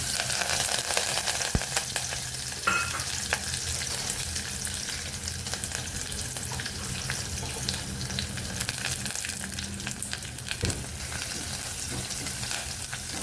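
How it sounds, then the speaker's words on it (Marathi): Cumin seeds, curry leaves and crushed garlic fry in hot oil for a sprouted urad shek, giving a steady, close sizzle that holds evenly throughout with no voices. "आपण तेल तापलेले आपण जिरं घालून घेऊया थोडं कढीपत्ता आणि लसूण ठेचलेलं आहे तो सुद्धा घालून घेऊया"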